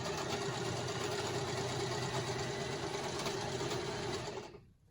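A sewing machine runs zigzag stitches across a journaling card or tag for a Christmas altered book, a steady close mechanical whirr that continues without pause, then cuts off sharply near the end.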